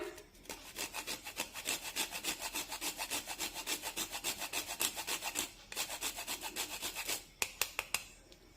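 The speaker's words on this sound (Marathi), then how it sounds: "साधारण पाव चमचा जायफळ किसून टाकूया" Whole nutmeg rubbed against a grater while making banana puris, a steady run of quick rasping strokes, close and fairly loud, with a short pause and a few sharper scrapes near the end.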